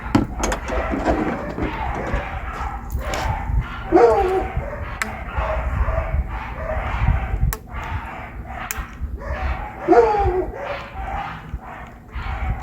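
Several dogs bark repeatedly and frantically at a moderate distance behind the speaker, overlapping yips and barks continuing in bursts throughout.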